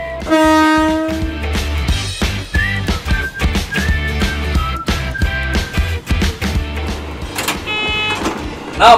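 An electric KRL commuter train moves off, heard from inside the driver's cab: loud electronic tones and a horn-like blast, then a rising motor whine with clunks and rattles as it gathers speed.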